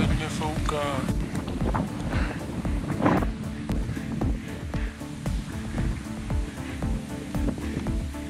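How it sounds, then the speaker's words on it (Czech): Strong wind buffeting a lone climber high on Gasherbrum I, a constant roaring rush with gusty swells and rumbling bursts against the microphone. "Hlavně mě fouká."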